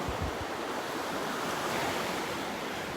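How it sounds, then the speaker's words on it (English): Steady broadband roar of surf and onshore wind on a Gulf of Mexico beach at Delnor-Wiggins, with a few low microphone wind thumps at the start, no talk. "that wind coming in from the west off the Gulf"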